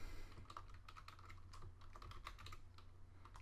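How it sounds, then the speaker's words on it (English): Rapid keyboard typing at a computer while headings are entered into a spreadsheet, a steady run of close, crisp key clicks with no talk. "We will begin in cell A1 and start typing in our headings."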